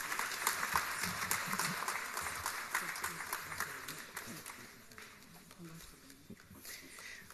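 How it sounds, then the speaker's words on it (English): Applause rises from the audience at an educational awards ceremony, sounding rather faint and distant, with steady clapping that gradually thins toward the end amid some background murmur. "Can we acknowledge Dr. Kumail Abbas with a huge round of applause, please?"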